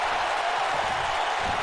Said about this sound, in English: listen to the roar of the N.E.W.